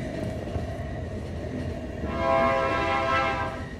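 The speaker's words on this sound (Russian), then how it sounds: "Остановите поезд." A train rolls along in the video game The Final Station, a constant rumbling clatter that swells toward the end as a horn-like tone builds over it. No voices are heard.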